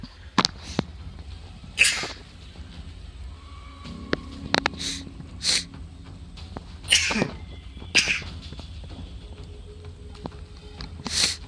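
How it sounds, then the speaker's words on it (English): A single person sneezes once, sharp and fairly close, with soft clicks and small handling noises around it in an otherwise quiet room. "I'm going to sneeze."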